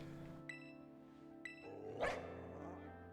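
A dark dog-type Pokémon barks in the Pokémon Violet video game, one short bark rising over background music with a couple of soft chimes before it.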